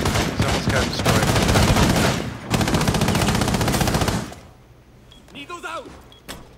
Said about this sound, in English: He's wasting Glaz bullets to destroy my castle.